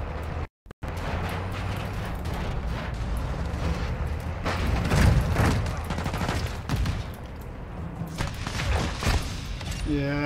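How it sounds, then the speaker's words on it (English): Gunfire in Call of Duty: Modern Warfare II, fired through a fence: a dense run of shots and bursts sitting under a constant game soundscape, peaking mid-clip and again toward the end, with a brief drop to silence near the start. "of course he's shooting through the fence"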